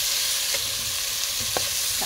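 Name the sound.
stirring crab and jackfruit in coconut milk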